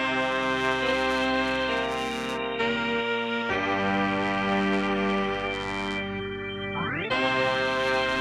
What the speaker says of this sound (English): I grabbed some brass one-shots from the Elements of Soul kit